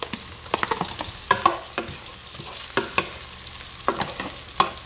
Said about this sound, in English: into this oil, into this, I'm gonna be putting in my sausage